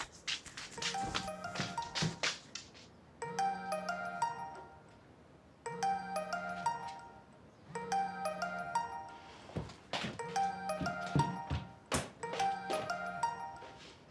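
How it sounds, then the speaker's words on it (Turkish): A mobile phone ringtone repeats a chiming melodic phrase in several cycles with short pauses between them, moderately loud and close, with some background noise between rings. "Telefon mu çalıyor?"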